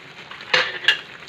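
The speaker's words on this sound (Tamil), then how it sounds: "சேர்த்து நல்லா கிளறி விட்டுக்கலாம்" Roasted grated coconut stirred into Rangoon kesari in a pan, a soft scraping background broken by two sharp spoon-on-pan clanks close by, with no speech.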